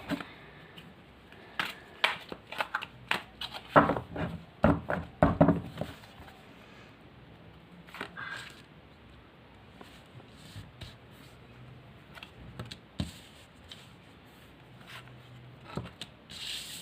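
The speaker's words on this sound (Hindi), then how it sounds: "चलो स्टार्ट करते हैं, एक बार शफल कर लेते हैं।" Tarot cards being shuffled by hand, a close, quiet series of riffling and rubbing bursts, busiest early on and then sparse.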